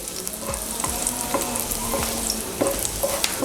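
Garlic sizzles in hot oil for a hotel-style coconut chutney, a continuous crackling fry punctuated by several spatula scrapes and stirs, fairly close and with no voices.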